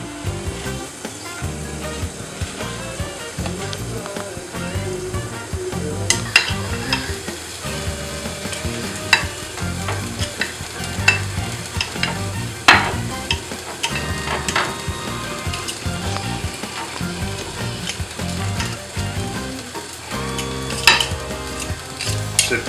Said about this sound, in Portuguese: eu vou amassar a macaxeira aqui na nossa panela